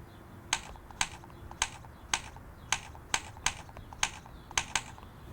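Fingers tap the on-screen keyboard of a 1993 Apple Newton, about ten distinct light clicks in an even, fairly quick rhythm, close and quiet with no speech.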